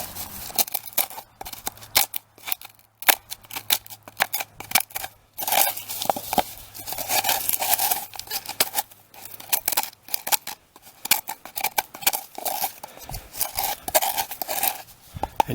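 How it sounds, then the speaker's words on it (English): A cleaning tool scrapes out the dried inside of a gourd in repeated rough, rasping strokes with short pauses between, close and fairly loud with no talk. "So I'll take it and just scrape along the edges, and it'll scrape all this stuff out."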